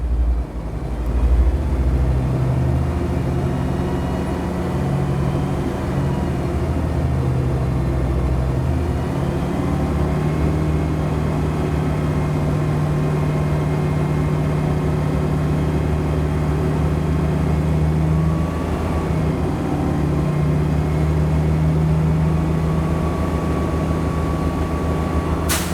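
Steady low diesel bus engine idle rumbling continuously, loud and close, with a faint higher hiss rising near the end as the air tanks build pressure.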